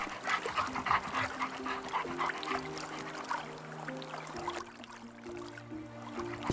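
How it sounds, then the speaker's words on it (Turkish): A dog in the video game Animal Rescuer pants in quick, rhythmic breaths close by, with faint whimpers and soft background game tones and little else. "ha bak köpek sevelim mesela"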